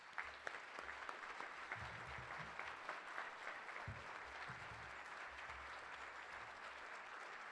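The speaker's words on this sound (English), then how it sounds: "Please give him a round of applause." An audience at a luncheon claps continuously for several seconds, a dense, fairly distant patter of many hands with a few low thumps mixed in.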